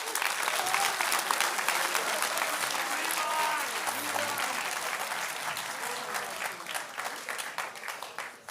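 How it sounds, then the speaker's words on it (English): Sustained applause from a school honors assembly audience, loud and steady throughout, with a few faint voices mixed into the clapping. "So please applaud by class for freshmen Camden Epperhart, Levi Hawes, and Will Davey"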